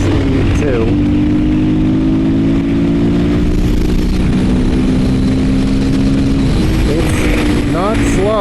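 A 2020 Husqvarna FE501s single-cylinder motorcycle engine pulls hard at full throttle from around 62 mph, a loud steady drone with a rising pitch, heavy wind rush and a brief gear-change dip near the end.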